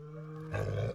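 A low, rumbling growl from an animal following close behind someone in India, rising briefly to a louder, rougher snarl near the end.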